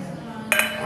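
Glasses clink together in a celebratory toast over a meal, a short bright chime over quiet background talk and room noise.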